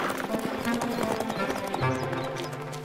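Rhythmic clip-clop of a wild horse's galloping hooves in a cartoon, steady and fairly loud, mixed with music and other background sound.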